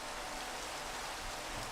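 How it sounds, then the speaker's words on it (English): Steady rain falling in the Minecraft video game, a dense even hiss of drops with no breaks, moderately quiet. "It's just rain."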